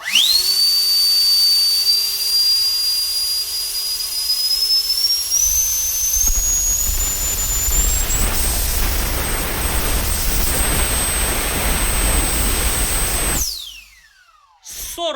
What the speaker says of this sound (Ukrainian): Дивись, ставлю повзуночок на мінімум і поступово буду додавати.